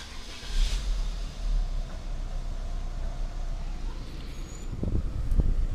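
Peugeot 206 car engine starting, a low steady rumble with brief bursts near the end as it catches and settles into a quiet idle, no talking.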